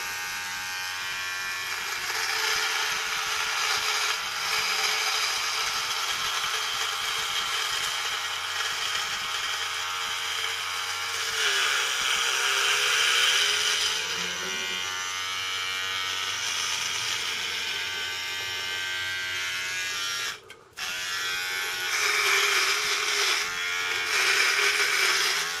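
An electric shaver trims a beard with a steady high buzz that shifts in tone as it moves over the hair, stopping briefly once before starting again.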